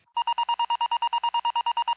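A raw, unprocessed synthesizer lead pulses in a fast, even stream of about sixteen bright, buzzy tone bursts over two seconds, steady in pitch and loudness, heard alone.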